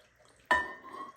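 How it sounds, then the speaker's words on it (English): A cup of water is poured into a slow cooker holding pork chops: one sudden, close splash that slaps down and rings briefly in the pot. "I'm going to add a cup of"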